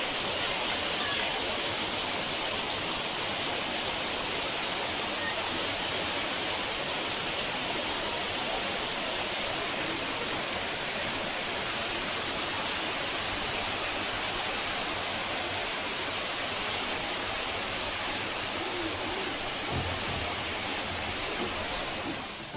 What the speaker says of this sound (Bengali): বৃষ্টির আওয়াজ তো তোমরা পেলে এত পরিমাণে বৃষ্টি হচ্ছে